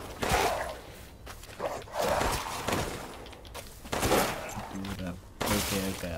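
Pistol shots in the video game Resident Evil Village ring out as several sharp, separate reports about a second apart, mixed with game noise and someone talking between them.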